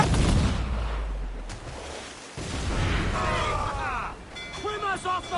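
Ship cannons fire from a pirate vessel in Assassin's Creed IV Black Flag: a heavy booming blast opens, with further rumbling, crew shouting and seabird-like cries afterward, all under a noisy battle ambience.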